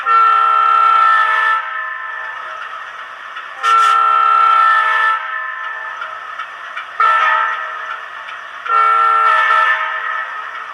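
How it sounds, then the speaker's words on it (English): A brass U25C model locomotive with TCS WOWsound sounds its horn in a grade crossing pattern: two long blasts, a short one, then a final long blast, loud and close with no talking. "function 4 goes through a whole grade crossing horn blowing sequence"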